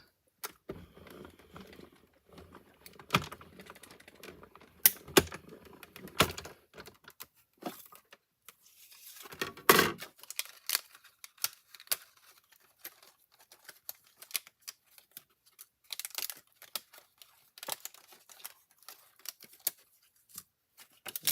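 Paper card pieces being cut out by hand, a quiet series of sparse, irregular snips and rustles with soft handling noises close by over about twenty seconds.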